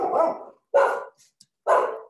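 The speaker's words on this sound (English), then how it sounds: "my dogs are barking" Dogs bark indoors in three loud close bursts with short gaps between, a faint yip in one of the pauses.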